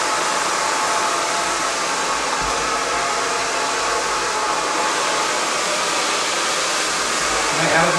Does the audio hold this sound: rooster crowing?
no